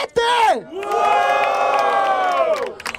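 A loud crowd roars and cheers at a Brazilian street rap battle in Barueri, São Paulo, a sudden burst of shouting swelling into a sustained collective cheer for about two seconds.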